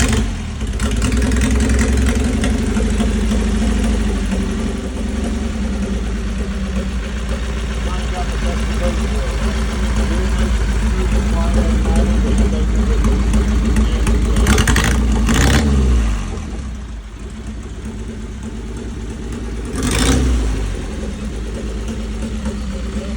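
A 1939 Indian 1,300 cc vintage motorcycle engine runs loudly up close, a steady idle rumble with a dip and swell in revs near the end, people talking faintly over it.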